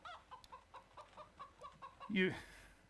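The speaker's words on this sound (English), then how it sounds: "with a chicken noise" A chicken clucks in a quick series of short, evenly spaced bursts, ending in a louder squawk, with no other sound around it.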